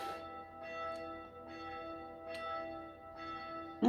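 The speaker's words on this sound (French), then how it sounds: "à cause des cloches" Church bells ring at a distance in a steady wash of sustained tones, with several fainter strikes swelling and fading over a few seconds; no one speaks.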